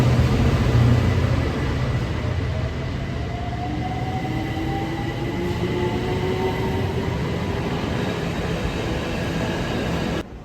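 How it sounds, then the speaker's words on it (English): A London Overground Lioness line train bound for Stratford runs through the station, a loud continuous rumble with rising and falling whine tones from the motors, steady throughout with no talking. "That is the Lioness line train to Stratford."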